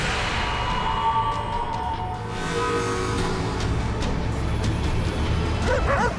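Dog barking out in open fields, a few short yelps near the end over a steady low rumble like a passing or idling car.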